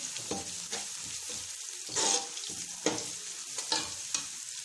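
Garlic-ginger paste sizzles and spits in hot oil for egg biryani while a spoon scrapes and stirs it around the pan in irregular strokes, fairly quiet and close.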